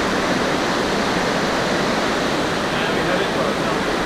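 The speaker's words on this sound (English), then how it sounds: "So we are at Kedongdong waterfall." Kedongdong waterfall rushing into a pool, a steady, dense roar of falling water that holds even and loud throughout with no pauses.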